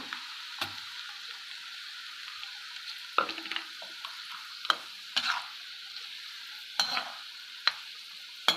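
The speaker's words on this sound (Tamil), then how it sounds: "இப்போ இதோடவே நான் பூண்டையும் சேர்த்துக்கிறேன்" Garlic frying in hot oil while making a spicy Tamil mixture snack, a soft steady sizzle broken by repeated sharp scrapes and clinks of a spoon stirring the pan, close and alone without talk.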